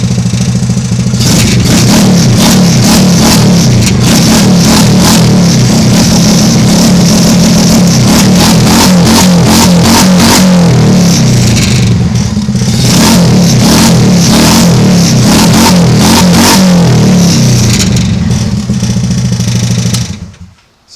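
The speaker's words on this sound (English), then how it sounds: "we're going to start the buggy" A Trailmaster Hammerhead buggy engine fitted with a slide-carb throttle rod kit starts up and revs hard again and again in quick bursts, loud and close, with no talking for about twenty seconds before it cuts off.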